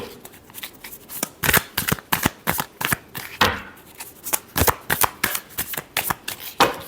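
Tarot cards shuffled by hand in a rapid series of crisp riffling bursts and slaps, close and fairly loud, with no talking.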